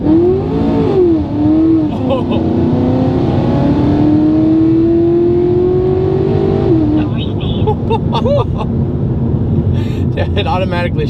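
Supercharged 687 whp Chevy SS accelerating hard from inside the cabin, the engine note climbing loudly through a long pull before a gear change, then rumbling with some talking over it.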